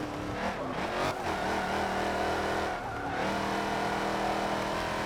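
Race car engine from Forza Motorsport 7 in a Sport Touring race, loud and continuous throughout, with steady revving and gear changes, a brief dip near the three-second mark, no talking.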